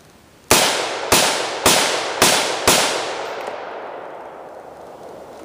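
An AR-15 rifle fires five sharp, loud shots of Geco ammunition in an even, unhurried rhythm, each crack ringing off in a short decaying tail, with no talking.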